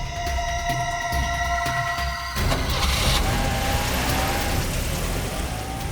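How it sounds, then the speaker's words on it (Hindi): A car pulls away outside a hotel, its engine rising into a steady, fairly loud drone as it moves off, alone without talk. "गाड़ी तो निकल गई सर"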